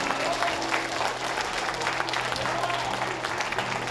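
Sustained audience applause fills a theatre during a music school performance at Christinateatern, a dense, steady wash of many hands clapping close and loud throughout, with no speech over it.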